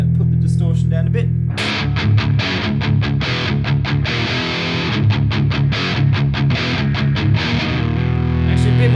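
Electric guitar runs through a KMISE US Dream high-gain distortion pedal with the tone boosted and the gain lowered a little, playing loud, driven, rhythmic chugging chords that start after a sustained opening note.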